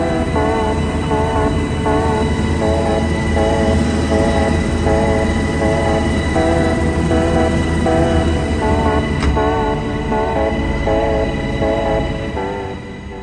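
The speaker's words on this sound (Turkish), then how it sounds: "Pilotlarımız teknisyenden gelen hazır işaretini aldıktan sonra yavaşça helikopteri zeminden kesti." A Sikorsky S-70 Black Hawk police aviation helicopter lifts off, its turbine whine and rotor beat forming a loud, steady, close drone with rhythmic pulsing that eases slightly toward the end.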